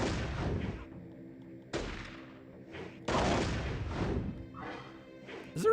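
Gunfire in the N64 game Charlie's Blast Territory: three heavy, booming blasts spaced about a second and a half apart, each ringing out and decaying, with a sharp electronic blip at the end.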